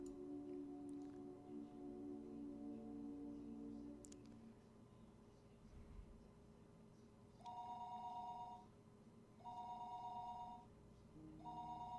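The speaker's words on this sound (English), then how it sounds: "The phone rang noisily downstairs." A telephone rings downstairs in the game Higurashi: When They Cry, three evenly spaced electronic rings in the second half, heard over soft background music with a few clicks.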